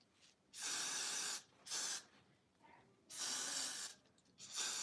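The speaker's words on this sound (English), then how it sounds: "So I'm just gonna add hairspray." Hairspray hisses from an aerosol can onto a synthetic wig ponytail in four long bursts separated by short pauses, close and steady, with no talking.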